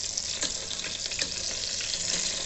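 Brinjal slices frying in an electric kettle, a soft steady sizzle and bubbling hiss with small pops, close but fairly quiet and uninterrupted.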